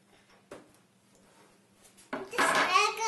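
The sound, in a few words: prying a chocolate cake away from the pan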